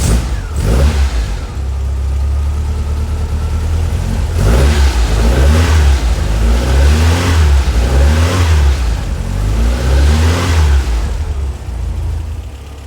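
A polished 150HP 2110cc air-cooled VW engine revs under load on a dyno, loud and close, its deep throbbing note swelling in a series of repeated rhythmic pulls.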